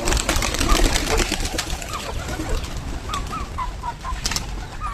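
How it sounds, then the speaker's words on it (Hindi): Pigeons coo softly in short repeated phrases amid a busy, noisy background, with occasional rustling that could be wings. "नहीं यार कबूतर तो कम नहीं लग रहे।"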